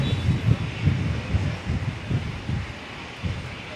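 A Fokker 70 airliner departs from runway 01 left at Brisbane International Airport, a low steady engine rumble with gusty wind buffeting, heard from a distance and alone.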